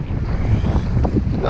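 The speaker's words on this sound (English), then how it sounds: "Oh, that's a big gust of wind there." Strong wind gusts buffet the microphone during stormy weather at an urban fishing spot by the water, a loud, steady roar with no voices.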